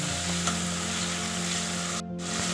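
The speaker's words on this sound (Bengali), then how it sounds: "একটু নরম হওয়া পর্যন্ত কিন্তু আমাকে টমেটোটাকে ভাজতে হবে" Tomatoes fry and soften in a pan with a dense, steady sizzle and some stirring, close and continuous, with a brief dip near the end.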